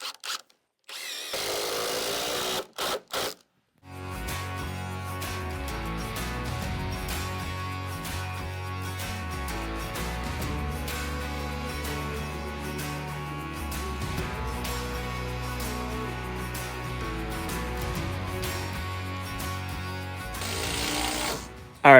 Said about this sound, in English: I'm lagging them in up there to make sure everything stays tight to the barn side